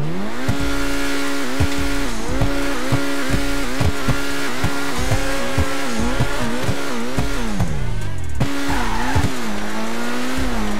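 A Ferrari in GTA RP accelerating hard, its engine note climbing and dropping sharply through repeated gear shifts, loud and close, with bursts of tire squeal and no speech.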